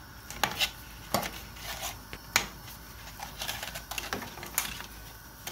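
Lasagna noodles splash and knock one by one into a pot of salted boiling water, a series of close, sharp clatters and soft rattles spaced about a second apart, with no voices.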